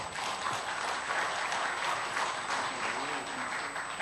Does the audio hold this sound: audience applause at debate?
yes